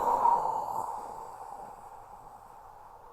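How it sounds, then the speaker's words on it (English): A single slow, deep breath drawn and released during a guided meditation, soft and close, fading gradually into near silence with no talking. "Take a breath."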